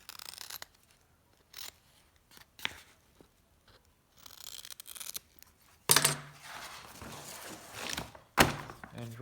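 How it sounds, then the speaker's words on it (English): Corners being cut off during a Sky Ranger rebuild, heard as a few separate snips and thunks that give way to a louder burst of cutting and tearing near the end, close by with no talk. "I'm going to cut the corners off."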